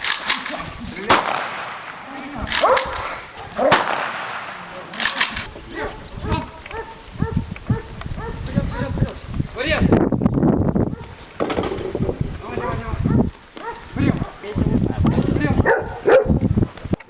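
Police service dogs bark repeatedly amid commotion on an obstacle course, with handlers shouting and talking over them and other outdoor activity nearby.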